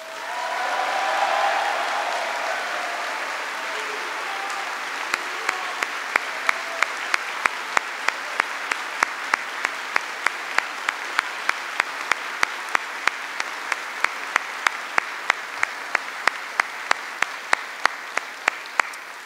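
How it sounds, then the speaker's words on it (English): A large crowd at a Veterans Day ceremony at Yongsan Garrison, South Korea, applauds steadily for nearly twenty seconds, with sharp individual claps standing out against the dense, sustained clapping. "Please give him an extraordinary round of applause."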